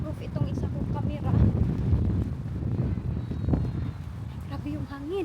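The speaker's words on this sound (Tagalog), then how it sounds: "Grabe yung hangin." Strong wind buffets the microphone with low, rumbling gusts while a person talks over it.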